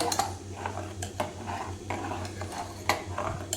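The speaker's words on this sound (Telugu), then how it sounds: "వీటన్నిటిని ఈవెన్గా కలిసేటట్టు కలుపుకోవాలి" Spices such as coriander powder, coconut powder and chili powder get stirred into sambar in a pot, with repeated scraping clinks of a metal spoon against the pot over a low steady hum, no talking.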